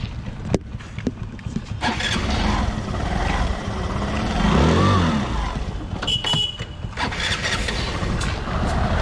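Vehicle engine cranked over with an electric self-starter after a service, catching and settling into a steady idle that stays fairly close and continuous for several seconds, with no talking.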